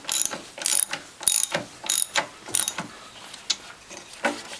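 Ratcheting clicks from a wrench tightening bolts on the return spring of a Norwalk Premium juicer, a close, quick series of bursts in short rhythmic runs, with no talk.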